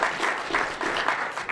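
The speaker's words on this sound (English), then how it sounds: "Can we just give him a round of applause?" Brief audience applause at a civic innovation partnership launch event, a moderate burst of clapping in uneven pulses, fairly close and without talk over it.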